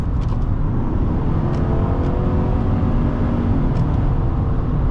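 A 2025 GMC Sierra 1500 SLT pickup truck driving, heard from inside the cab as a loud, steady rumble of engine and road noise with a few faint higher clicks, no voices.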